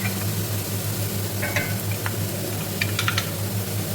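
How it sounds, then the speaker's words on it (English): Steady sizzling of ginger and garlic frying in oil, with occasional stirring scrapes and light clinks of a utensil against the pan. "keep frying it till the onions are soft"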